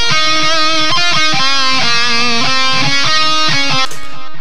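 A distorted electric guitar in a metal mix plays a dense chugging riff of sustained, harmonically rich chords with short rhythmic breaks, loud and upfront, alone without talking.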